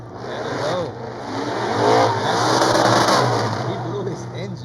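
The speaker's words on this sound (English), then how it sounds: "here comes a loud Mustang." A loud Ford Mustang race car at Orange Show Speedway qualifying roars past, its engine swelling to a peak midway and then easing off, with voices talking over it.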